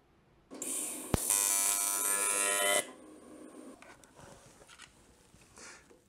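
AC TIG welding arc on thin aluminum cans with a YesWelder 250p, a steady loud buzzing hum that starts sharply, holds for about two seconds, then cuts off into quieter room noise.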